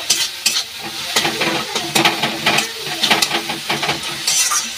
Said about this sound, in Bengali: এবার ভালো করে এটা আমি নাড়িয়ে নেব। দেখুন কত সুন্দর হয়েছে বেশ কষানোটা। ভালো করে এটা আমি ভেজে নেব।